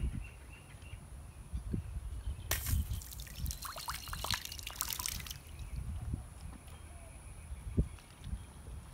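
Water runs from the nozzle of a pumped-up Lifesaver purification bottle, a faint trickle and dribble with a brighter splashing stretch in the middle, close and quiet over low background rumble.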